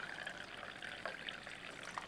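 Stock poured or ladled into a pan: a faint, steady liquid trickle and dribble with a few small splashes, close but quiet, with no talk.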